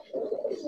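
A Giribaj pigeon coos once in a brief, fairly close, throaty burst.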